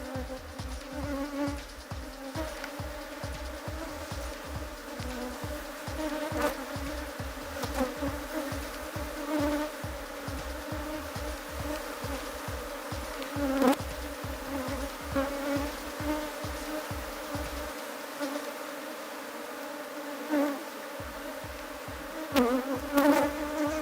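A dense swarm of honey bees hums steadily at an opened hive being smoked, a constant close buzzing with occasional louder passes, and no voices.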